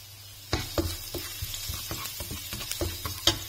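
Garlic frying in hot oil for fried rice, a close, steady sizzle broken by repeated scraping and clacking stir strokes, with no talk.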